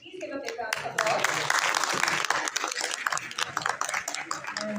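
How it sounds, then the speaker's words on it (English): An audience applauds at a university book review competition in Pakistan, with dense clapping that builds after a brief start and carries on steadily, mixed with some voices. "Ms. Shahnaz Razmi, please give a big round of applause."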